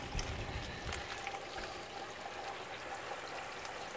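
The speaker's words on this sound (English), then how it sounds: "siding will catch that water, and it will bring that water all the way across and drip it out" Steady trickling and dripping of water running along vinyl siding on a house wall, a continuous close wash of running water with soft irregular drips, no speech.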